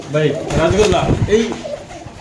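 Giribaz pigeons at a bird market, several soft, close coos rising and falling over a couple of seconds, with talk mixed in among the calls.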